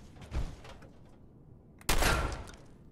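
Gunfire in Fallout 4: two separate bursts, a short muffled volley followed by a louder, sharper burst of rapid shots, with a quieter lull between them.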